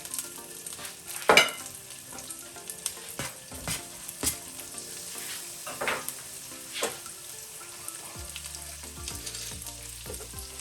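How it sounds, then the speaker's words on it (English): Red chili sizzling in melted butter in a pan over medium heat, a steady crackling fry with scattered sharp pops and stirring clatter throughout, close and fairly loud, with no talking. "add in about 10 grams butter. Then we are going to add in the red chili"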